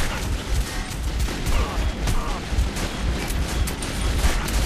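Gunfire from Metro 2033 rolls on continuously as a dense, roaring barrage of shots and blasts at steady loudness, with a voice talking over it.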